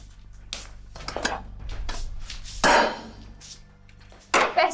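A metal cooking pot is picked up and set back down in a home, giving a few sharp metallic clanks and knocks, with a louder clang midway and another near the end.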